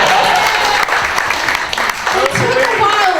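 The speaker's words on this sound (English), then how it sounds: "clap if you want" A comedy club audience at the Velveeta Room bursts into loud, dense applause, with a voice carrying over part of it.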